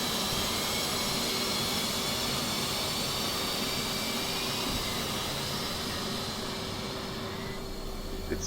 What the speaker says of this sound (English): Other engine spinning up.